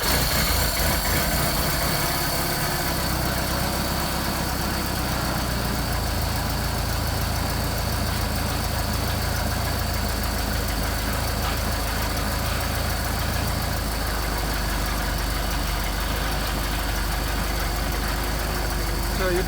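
A Solex engine idles steadily through a cold start on choke, a continuous close, even running drone that persists throughout with no pauses.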